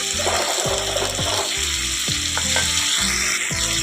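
Ground spices sautéing in a pan for a jackfruit and potato curry; a loud, close sizzle with repeated rhythmic scraping strokes of the spatula, roughly every half second, and no voices.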